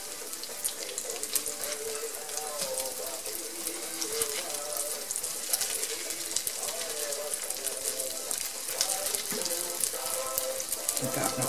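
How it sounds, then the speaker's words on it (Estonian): Cabbage cutlets fry in a pan over low heat, giving a continuous dense sizzle and crackle that stays steady and fairly loud throughout, with a voice faintly present beneath it. "Ma olen tegelikult panni juurde ja hakkan kohe praadima teda."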